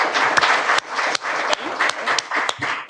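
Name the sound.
audience applause for candidates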